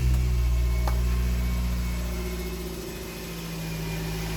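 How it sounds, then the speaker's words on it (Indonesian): A Nissan Grand Livina with automatic transmission idles just after starting, a steady, smooth low engine hum that holds even and continuous throughout. "Nah untuk suara mesin ini kategorinya masih wajar lah ya, suaranya masih cukup halus."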